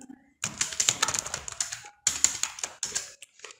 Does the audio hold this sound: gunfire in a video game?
no